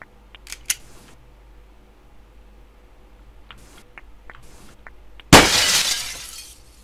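A window pane shatters in the video game Gunpoint, a sudden loud crash of breaking glass with tinkling debris trailing off, after a stretch of faint clicks and small taps.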